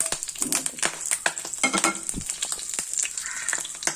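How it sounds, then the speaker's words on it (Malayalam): Whole spices frying in a spoonful of hot oil in a pan, a close crackling sizzle with sharp pops and stirring scrapes throughout, no talk. "നമ്മുടെ പാനൊക്കെ ചൂടായി ഒരു സ്പൂൺ എണ്ണ ഒഴിച്ചു ഇതിൽ ഓൾ സ്പൈസസ്"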